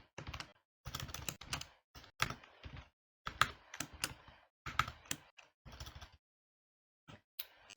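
Typing on a computer keyboard while entering a command, quick clusters of close, crisp key clicks in short bursts separated by brief pauses, quiet overall with no talk.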